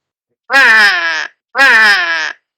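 Two loud, drawn-out harsh caws from a crow-like messenger bird, each lasting nearly a second with a short gap between them, sounding close and clear against silence.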